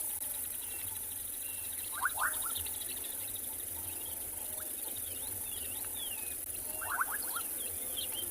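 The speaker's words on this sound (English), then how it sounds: "And a very beautiful sound. It's my favorite frog call." Bubbling kassina frogs call at sunset, two short bursts of bubbling notes about five seconds apart, over a constant background of insect trilling and faint distant bird chirps.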